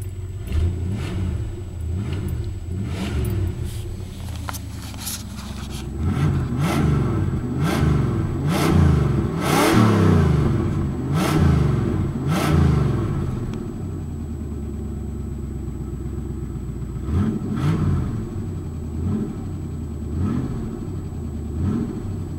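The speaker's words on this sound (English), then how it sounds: "You know what, just for the heck of it, we'll just rev her up." Engine of a 1972 Plymouth Fury being revved in repeated bursts, rising and falling throatily from a steady idle, with a slight tick in the motor, close and fairly loud with no talking.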